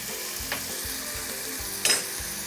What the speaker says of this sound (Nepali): अब यसलाई गोल्डन ब्राउन हुने बेलासम्म हामी फ्राई गर्ने छौँ।